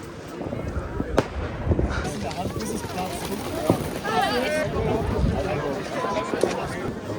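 Fireworks crackle and pop continuously over a city at night, with sharp bangs and whistling rockets mixed into loud crowd noise and nearby voices.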